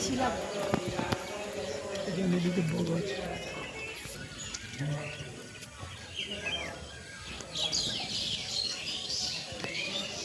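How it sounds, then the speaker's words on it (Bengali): Birds chirp in a lively chorus beside a river outdoors, with the calls moderately close and mixed with steady background noise and occasional clopping sounds. "একটু শোনো কতটা ভালো লাগছে এই পাখির কলরব শুনতে।"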